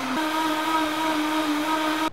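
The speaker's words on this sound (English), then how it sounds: "now I'm just going to blend this until it is all nice and smooth" A Vitamix blender runs steadily at high speed, blending a sauce for cheesy al pastor quesadillas until smooth, with a loud, constant motor whine that stops abruptly at the end.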